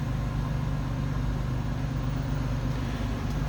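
Stock 2003 Chevrolet Monte Carlo SS Jeff Gordon Edition idling, a steady low exhaust rumble heard close up, even and unbroken throughout.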